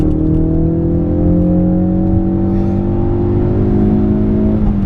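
A 2017 Ford Focus RS engine pulls hard under acceleration, a loud, steady close-up drone climbing gradually in pitch through the gear, with no voices over it.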